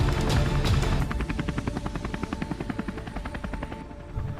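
A cartoon helicopter flies overhead in an animated robot story, its rapid chopping rotor beat pulsing loud and steady, fading slightly toward the end with no talk over it.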